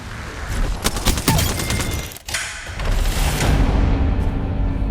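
Rapid gunfire bursts from the video game Apex Legends, loud and close, with dense volleys in the first half, a brief lull, then sustained shooting and explosive rumble continuing to the end.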